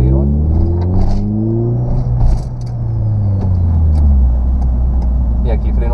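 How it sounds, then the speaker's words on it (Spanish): A car engine adapted for disabled drivers revs up hard as it accelerates, its rumbling pitch climbing and then falling. A voice is heard intermittently over the engine. "Aquí metemos un acelerón."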